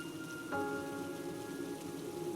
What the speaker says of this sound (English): Frank and Adeline rushed through the rain,